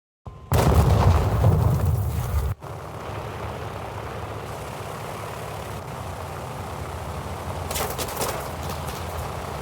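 Heavy explosion blasts in the War Thunder combat game, with aircraft in play: a loud, booming burst near the start, then a sustained rumbling roar of engines and battle noise that swells slightly toward the end.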